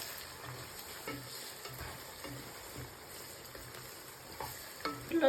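Curry with eggs and drumsticks is stirred and mixed in a pan, with quiet scraping and gentle sizzling that continue throughout at low volume and grow a little louder at the end.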